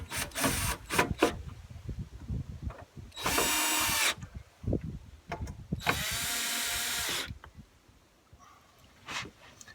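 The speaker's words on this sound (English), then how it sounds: "drill the hole through the wooden part as well" A power drill boring a hole through the wooden part of a narrowboat door runs in two loud, steady bursts of a few seconds each, separated and surrounded by knocks, clatter and handling noise.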